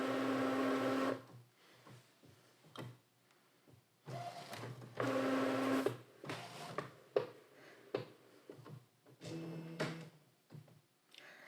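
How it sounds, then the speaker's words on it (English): An Epson SC P800 printer loads a sheet of paper, giving off repeated bursts of mechanical whirring and motor hum with clicks and softer rattles in between, close and alone. "The printer will load the paper."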